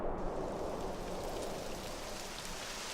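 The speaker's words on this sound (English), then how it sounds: "It would have to go and start raining, wouldn't it?" Steady, close rain falls in the video game Dragon Quest XI: Echoes of an Elusive Age, a dense continuous hiss of drops that holds an even level for the whole stretch, with no voices.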